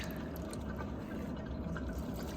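Transmission oil draining from a Mercedes-Benz CLA, a continuous gurgling, trickling flow of liquid into a drain pan, steady and close with low rumble underneath and no talk.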